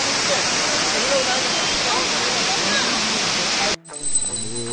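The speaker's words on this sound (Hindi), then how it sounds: "वाटरफॉल का आवाज आ रहा है, तो गाइस ये रहा वाटरफॉल।" Loud, roaring rush of a waterfall in a valley near Sohra, Meghalaya, heard up close as steady broadband noise before cutting abruptly to quieter ambience near the end.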